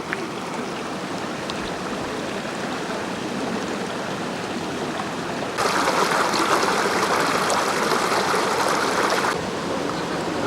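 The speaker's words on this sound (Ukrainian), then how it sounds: "Навіть годину після зливи вода тече по річці, по вулиці Суворова" Rainwater rushing down a river and along Suvorova street in Volovets an hour after a downpour, a continuous close churning flow that swells noticeably louder for a few seconds midway.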